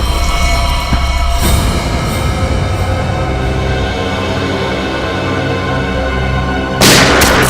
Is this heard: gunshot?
yes